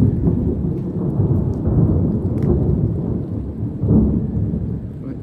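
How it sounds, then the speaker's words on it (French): Thunder rolls through a storm over Clermont-Ferrand, a deep, loud, sustained rumble swelling in waves over heavy steady rain, with no voices. "il y a des éclairs, ça tonne"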